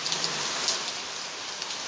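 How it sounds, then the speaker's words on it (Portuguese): Heavy rain pours steadily in a dense, even hiss, close and loud, with scattered drop impacts, during a downpour in the rice-growing countryside of Brazil's Northeast. "a terra do arroz tá fechada com muita chuva"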